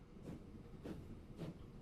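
A train rolls along in the Transport Fever 2 video game, three soft rhythmic rumbling pulses evenly spaced over a faint steady hum, quiet and distant.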